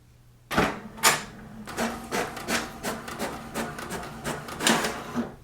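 An HP DeskJet 4255e inkjet printer printing a page, heard up close as a run of rhythmic mechanical strokes and rubbing carriage passes with a few louder clunks at the start, steady throughout with no talk.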